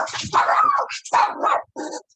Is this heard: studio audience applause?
no